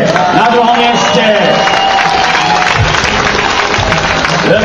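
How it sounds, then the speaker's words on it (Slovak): Crowd applauding and cheering for the second-place team at a 2010 tournament award ceremony, loud and continuous with some shouts mixed in. "Veľký potlesk pre našich priateľov, ako sa hovorí, z Moravy"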